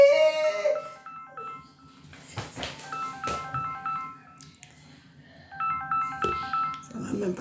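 A mobile phone ringtone plays a repeating electronic melody in bright tonal phrases, with people talking over and around it.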